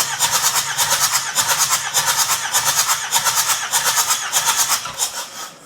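A Kubota M125X tractor diesel engine cranks on the starter during a compression test on cylinder four, a loud, close, steady rhythmic churning of evenly spaced compression strokes that never catches and fades slightly at the end.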